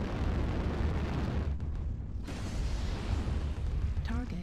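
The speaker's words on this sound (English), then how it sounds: "Artillery strike online." Artillery strikes in a video game land as deep rumbling booms, dense and loud, with a brief lull midway before the blasts resume.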